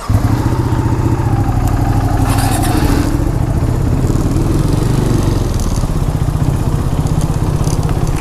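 A motorcycle engine runs steadily during a night ride toward the Kari Motor Speedway in Coimbatore, a loud continuous rumbling drone with wind noise and no break.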